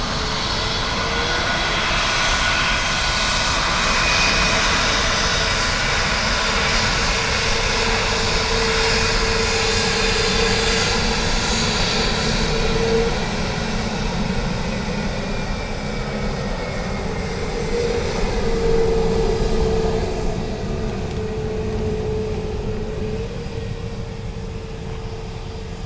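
A plane lands on runway 28 left at Dublin Airport in a 14-knot wind from 310 degrees, its engines a steady, loud roar with a sustained drone that holds for the whole stretch, alone without talk.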